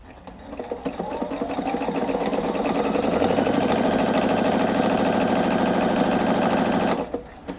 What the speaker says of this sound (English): When your two columns have lined back up, touch the reverse button again, and then it will finish the buttonhole for you